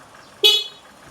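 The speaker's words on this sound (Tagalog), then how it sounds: "Busina." A short, loud horn blast from a Bajaj Pulsar NS400z motorcycle, a single bright honk of about a quarter second standing out clearly from a quiet background.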